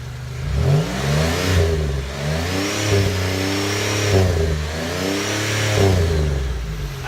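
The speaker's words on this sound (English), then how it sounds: "That is how every Fiero should sound" A Pontiac Fiero engine, from a 1987 car, revs loudly and repeatedly, climbing and falling in several strong throttle blips over a steady running drone, close by with no talking.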